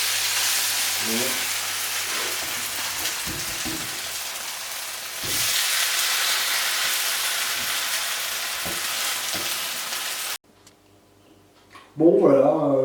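Stuffed Darphin potato cakes frying in a pan, a loud continuous close sizzle with a few soft knocks and a brief voice, then the sizzle cuts out and someone speaks.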